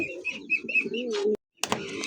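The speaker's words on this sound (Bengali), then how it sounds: "দেখতে পাচ্ছেন রেড কালার মধ্যে একজোড়া কিং কবুতর, বিগ সাইজের" A pair of large red King pigeons calling, several short chirpy notes over a low throaty coo, then a brief silence before another burst of cooing and rustle, close by.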